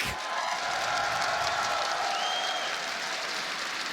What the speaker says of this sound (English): I think that deserves a round of applause for Benjimaster.